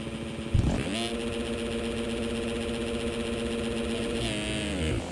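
Motocross bike engine in the MX Simulator video game revs up sharply, then holds a steady high-pitched drone for several seconds before easing off, loud and continuous, with no talk over it.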